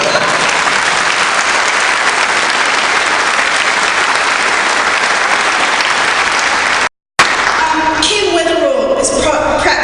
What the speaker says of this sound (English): So let's have a perhaps less long round of applause